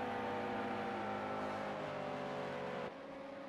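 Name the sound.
race car engine note in Daytona 24 Hour sim racing game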